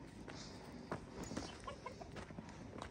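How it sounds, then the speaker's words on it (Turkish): Chickens cluck a few times in a farmyard beside a village house, faint and scattered against steady outdoor background noise. "Tavukları da göstereyim size."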